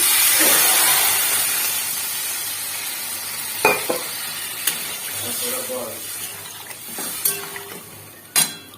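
Spiced masala for a Bengali dhoka curry sizzles and fries in a pan as water is poured in, a steady hissing frying texture with occasional sharp clinks and bumps of utensils against the pan.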